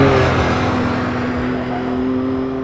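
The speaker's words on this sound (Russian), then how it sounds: "Это машинка, чтобы ездить по пустыням. Тарахтит постоянно" Close by, a desert buggy's loud, rattling engine drones steadily with a rough, continuous hum that fades only slightly over a few seconds.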